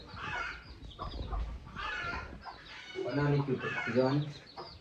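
A hen clucks near her chicks in a village yard, short clucks coming in bursts alongside people talking close by.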